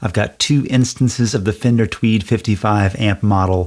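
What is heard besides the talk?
No distinct noise like a dog, phone or traffic.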